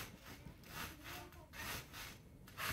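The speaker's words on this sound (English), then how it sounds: "Bamboo is like a very active fire." Bamboo fire crackling and hissing outdoors in steady rough bursts, faint and somewhat distant, with no clear voices.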